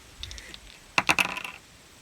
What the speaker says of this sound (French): Je lance encore les dés.